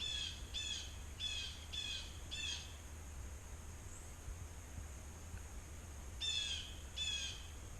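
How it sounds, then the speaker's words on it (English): A bird calls in a woodland on the trail at Maplewood State Park in Minnesota, giving a run of five rapid raspy squawks, a pause, then two more, over a faint low background rumble. "You're a bird."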